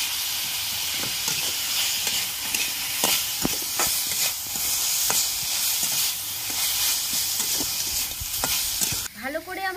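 Vegetables frying in oil in a pan for a village-style bitter gourd bharta, a steady close sizzle with repeated stirring clicks and scrapes throughout, ending in a brief whistling burst.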